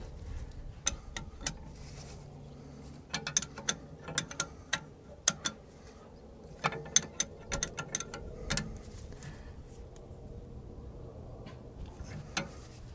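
A ratchet tightening the brake caliper bolts on an Audi A3 rear axle: clusters of sharp, quick clicks in several bursts over a quiet background, close and clear with no talk.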